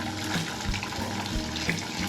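Hot water pours into a 5-gallon bucket of coco coir as a steady, close splashing rush with slight gurgling swells, alone without any talk.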